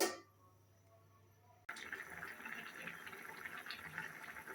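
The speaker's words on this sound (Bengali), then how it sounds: "তরকারিতে বলক উঠে গেছে" A pot of curry with potato, drumstick stems and eggplant bubbles at a rolling boil, a steady close hiss and gurgle of liquid that starts abruptly after a short quiet stretch with a faint hum.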